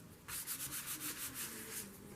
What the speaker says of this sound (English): You just rub it, it comes off